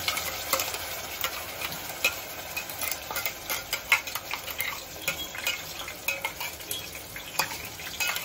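Tomato puree poured into hot oil, crackling and sizzling loudly up close, with scattered sharp spits and ticks of a spoon against the pan throughout.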